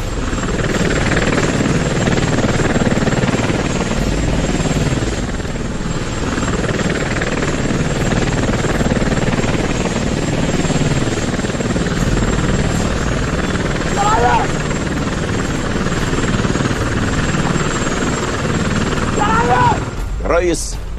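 A helicopter drones steadily and loudly throughout, its broadband rotor noise unbroken for the whole stretch, with brief chirpy sounds near the end.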